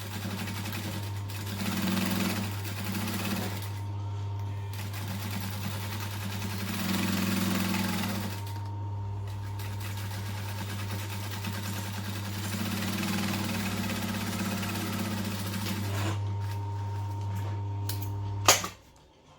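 A sewing machine stitches around the edge of a bag, humming steadily with a low motor drone for a long stretch, close by, ending in a sharp click and a stop.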